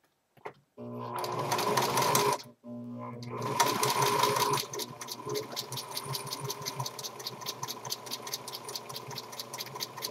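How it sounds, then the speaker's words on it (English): A sewing machine top-stitches around a fitted cloth diaper, running in two short bursts with a brief pause, then a steadier, lighter stitching rhythm, close and fairly quiet with no talk. "Next, I'm going to top stitch around the diaper."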